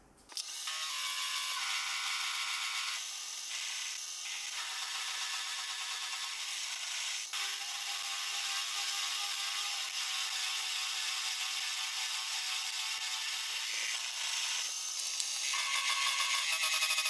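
A milling machine cuts the teeth of a worm gear cutter indexed on a dividing head, a continuous close high-pitched metallic grinding whine that shifts slightly in tone as each cut proceeds.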